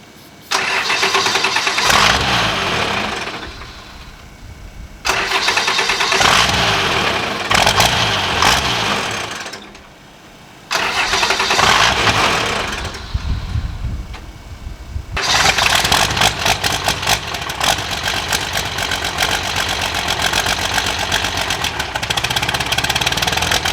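A Cummins diesel swapped into a monster truck cranks repeatedly without firing, several long grinding starter bursts separated by short pauses, loud and close, with the last crank running on continuously.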